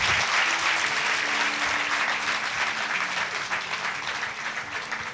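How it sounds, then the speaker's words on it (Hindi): Loud sustained applause from a church congregation during a Sunday service, clapping for the Lord, a dense wash of hands filling the room and easing slightly toward the end. "जोर से ताली बजाएंगे प्रभु के लिए।"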